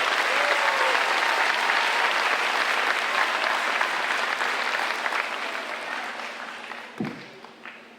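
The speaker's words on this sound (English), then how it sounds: "It's okay to clap for yourselves" Parents and family applauding at a 2021 high school graduation ceremony, a broad sustained wave of clapping that gradually fades toward the end, with a brief thump near the close.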